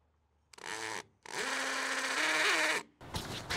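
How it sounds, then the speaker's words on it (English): A hammer drill bores holes for Tapcon concrete screws on an exterior wall, with a short burst and then a longer, sustained whining, rattling run of drilling before stopping. "I'm using a hammer drill on this and a drill bit that's especially for tapcons"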